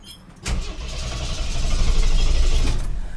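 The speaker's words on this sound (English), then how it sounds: "Let's see if it'll fire up again." A 1958 Cadillac engine cranks and catches, then revs up to a loud, steady roar that holds for a couple of seconds before easing slightly.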